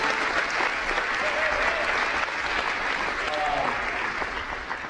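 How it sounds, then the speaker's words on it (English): Sustained applause from a crowd at a high school boys' basketball game, steady and fairly loud throughout, a dense wash of clapping with faint voices mixed in. "Please round of applause for the coaches."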